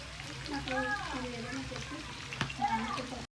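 Chicken frying in a pan for mango chicken pickle gives a quiet, constant sizzle under a voice talking over it.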